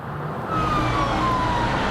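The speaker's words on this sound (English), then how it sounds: "The sirens could be heard all day. This ambulance rushing to an accident" An ambulance siren wails steadily over road traffic noise, rushing to an accident, a long rising and falling tone carrying through the whole stretch at moderate distance.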